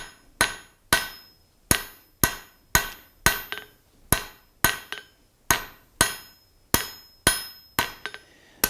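A blacksmith's hammer strikes hot nail stock on an anvil while drawing out a taper, each blow a sharp, bright ringing clang with a short decay, struck one at a time in an even rhythm about twice per second, with no talking.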